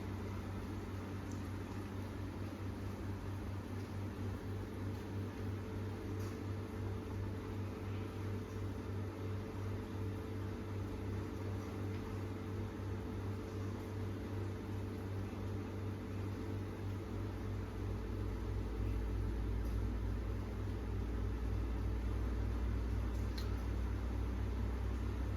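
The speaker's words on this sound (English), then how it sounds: "let's see how does it get cooked in the microwave" A microwave oven hums steadily while cooking popcorn, a constant low drone and fan whir that deepens slightly near the end, with no pops yet audible.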